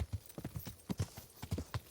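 Horse hooves clip-clopping in the medieval game Kingdom Come Deliverance: a steady walking rhythm of soft, close hoof beats, about eleven over a couple of seconds.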